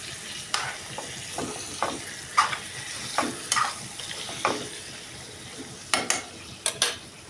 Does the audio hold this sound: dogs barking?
no